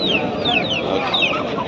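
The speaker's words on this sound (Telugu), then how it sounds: "పెట్టలు పుంజులు పిల్లలు కూడా ఉన్నాయా?" Hens and roosters cluck repeatedly at a busy Sunday poultry market in Pileru selling country chickens, several short rising-and-falling calls overlapping at moderate distance over a murmur of crowd background.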